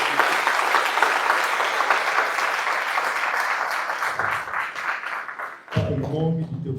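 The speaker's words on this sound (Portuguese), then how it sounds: "Você pode aplaudir a Deus para ver o pastor Pedro." Congregation clapping in a Portuguese-language church, a dense and loud round of applause that thins out near the end as a voice begins speaking.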